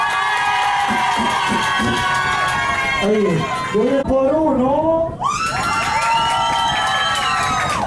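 Loud crowd cheering and shouting aboard the Triton yacht, with whoops rising and falling, brief rhythmic shouts, and a voice speaking over the noise.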